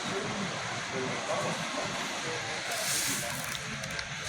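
Freight cars, including a TTS flatbed, roll past on tracks by S Lindon Rd in Flint, a continuous dense rumbling and hissing clatter at close range.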